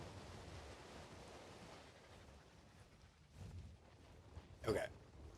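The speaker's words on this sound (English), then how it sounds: "this water's so loud" Water ambience in the video game Ark Survival Ascended, a steady, rushing wash like surf with wind that runs throughout, faint overall, with a brief louder burst near the end.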